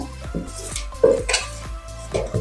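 Idli batter of ground rice, urad dal and salt is stirred by hand in a metal vessel, with close, irregular clinks and scrapes against the sides and soft thick sloshing between them, no voices.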